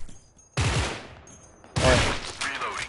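M16A3 rifle fire in the video game Special Force 2, with two loud bursts of shots, each decaying into echo, heard close with no talking.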